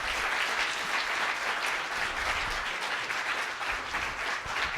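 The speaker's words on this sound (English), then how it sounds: "can we give a huge round of applause?" A seminar crowd bursts into steady, dense applause for Ben Pakulski, a continuous wash of many hands clapping at an even level from start to finish, without speech.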